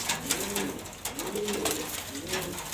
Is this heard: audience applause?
no